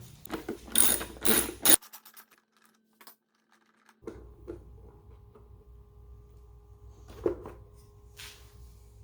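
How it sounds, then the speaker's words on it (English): Screwdriver backing out two T30 Torx screws from a Buell motorcycle's left-hand switch housing, with a short burst of close clicking and rasping, then a pause and quieter ticks and a faint scrape. "there are two T30 Torx screws, so we'll go ahead and remove these real quick"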